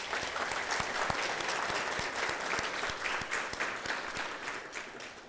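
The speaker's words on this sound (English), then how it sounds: "let's give her a round of applause" Audience applause at a junior high school's 30th anniversary celebration, a sustained crowd of clapping hands with a few sharper individual claps near the front, steady and full throughout.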